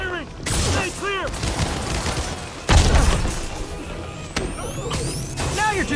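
Rapid gunfire bursts and crashing impacts from the PS5 video game Marvel's Spider-Man, loud and close, mixed with game music and chaotic action sounds, while characters shout over the firing.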